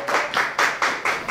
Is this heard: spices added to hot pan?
no